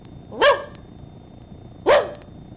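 A dog gives two short, sharp barks about a second and a half apart, loud and close against a quiet room background.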